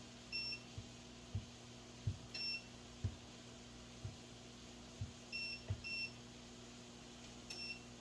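A kitchen oven beeps repeatedly while being set to broil, with short, faint electronic tones spaced at irregular intervals over a low background hum, and no talk.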